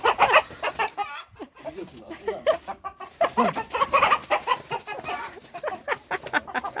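Chickens cluck busily close by, with a rooster's calls mixed into the steady farmyard chatter.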